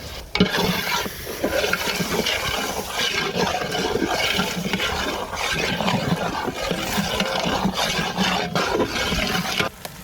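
Ground tomato paste with coriander, mint and green chillies sizzling and being stirred in a pot for chicken biryani, a continuous close frying hiss with scraping stirs that stops abruptly near the end.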